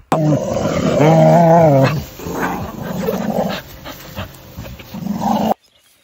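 An unsocialized dog, unused to contact with other dogs, lets out loud, strained growling whines and yelps, followed by rough snarling and panting noises at close range.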